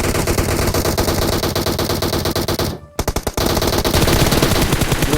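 Rapid automatic gunfire in PUBG Mobile, loud and continuous bursts that break off briefly near the middle before resuming dense and close.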